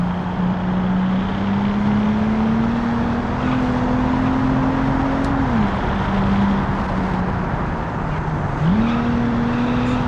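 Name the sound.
V6 car engine accelerating in video game Automation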